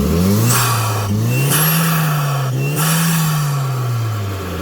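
A Gazel van engine on a workshop stand revs hard and close, holding a loud, steady roar whose pitch rises and dips with repeated throttle blips, with no talk over it.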